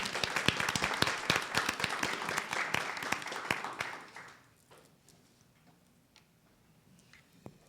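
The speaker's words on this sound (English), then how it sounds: "Please give them a round of applause." A small audience at a board meeting applauds with brisk, scattered clapping for about four seconds before it fades to a quiet room.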